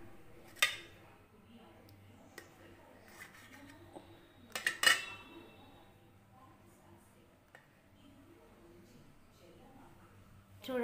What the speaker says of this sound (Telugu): కట్ చేసుకుందామండి జున్నుని